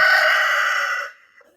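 A single loud rooster crow in a village farmyard, close and bright, held for about a second before cutting off into near silence.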